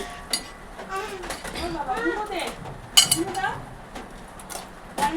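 A cooking pot is set down to start rice in a home kitchen, with a few sharp clinks of dishes and utensils spaced out under ongoing conversation.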